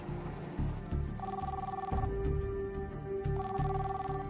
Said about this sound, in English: Tom keeps trying her cell phone.